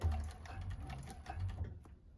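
A 1341 cylinder arm sewing machine runs steadily while stitching a bag, a low continuous motor hum with fine rapid needle clicks, close and fairly quiet, easing off toward the end.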